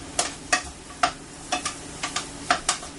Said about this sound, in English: My shallots and apples are starting to simmer. You can hear that go.